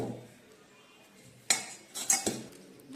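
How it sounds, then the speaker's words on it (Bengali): Cooked coconut dough for coconut rolls is cut into portions, with a knife or utensil clinking against a plate or pan in a few sharp, close taps after a quiet stretch. "এবার এটা লিচি কেটে নেব"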